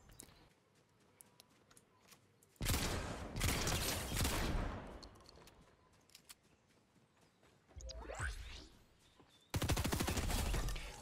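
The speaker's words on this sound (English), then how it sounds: "So let's see what we can do with the shotgun here" Shotgun and other gunfire in Fortnite Chapter 4: loud dense bursts of shots come in three separate volleys, with quieter game ambience and faint scattered pops between them.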